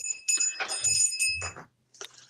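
A bell is rung in a calm, soothing session, giving several clear, bright ringing strikes with sustained high tones over about a second and a half, then a brief pause before a softer final ring.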